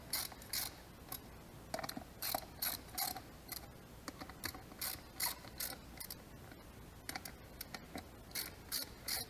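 A ratchet tightens the sprocket bolts on a motorcycle, working across them in a crisscross pattern. It produces short, repeated bursts of sharp metallic clicking separated by brief pauses, close and clear, with no talking.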